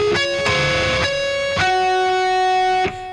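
Distorted electric guitar ringing natural harmonics from a song, a few bright bell-like chimes that each sustain before the next, up close with no talking.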